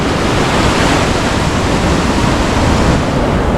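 Floodwaters of a swollen river roar past a village in a steady, loud, unbroken rush, with no pause or voices across the whole stretch.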